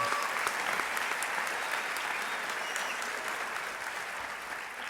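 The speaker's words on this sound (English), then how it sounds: "How about another round of applause for the singing and the gifts?" Steady, dense clapping from a large audience at a high school commencement ceremony, loud and sustained for several seconds with no pause.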